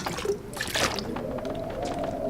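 Toilet water being collected in The Long Dark makes a soft, steady trickling and sloshing pour, with a brief splashy burst near the start.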